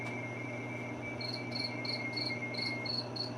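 Crickets chirp in a steady, faint outdoor chorus, with a repeating series of short, evenly spaced trills over a constant background hum and no talking.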